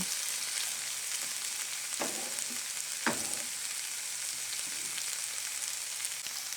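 Oyster mushrooms and onion fry steadily in a pan, giving a constant close sizzle with a few brief stirring scrapes and no talking.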